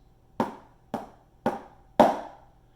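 Four evenly spaced drum hits ring out alone, the final stroke noticeably louder than the first three.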